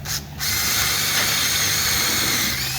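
A power drill bores pilot holes into the corners of cutouts in a panel over a spoil board, whining steadily and close after a brief start.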